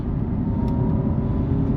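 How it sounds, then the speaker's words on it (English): An Alfa Romeo Giulia Veloce engine in dynamic mode drops a couple of gears via the paddle shifters, giving a steady, fairly subdued low drone heard from inside the cabin. "So it does have quite a nice engine tone, but it's quite quiet."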